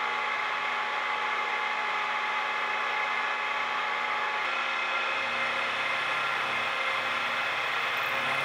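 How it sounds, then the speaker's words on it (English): A milling machine cuts a recess at the base of a Damascus steel knife blade so a cross guard will seat against it, a steady broadband machining hiss with a low motor hum running continuously throughout, with no talking. "the first thing we're going to do is mill out that little area so that the cross guard will seat nice and cleanly against the blade"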